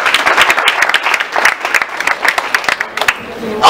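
An audience at a hair show applauds loudly and continuously, dense clapping filling the whole stretch with a voice talking over it.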